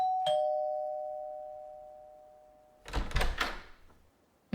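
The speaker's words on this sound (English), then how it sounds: "You wanna press the doorbell?" A doorbell rings once with a clear two-tone chime that decays slowly over a couple of seconds, followed by a burst of door and handling clatter nearby.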